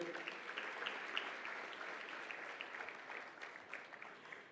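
Sustained applause from a large crowd at the Merck Foundation Africa Asia Luminary conference, steady and dense clapping for several seconds without a break.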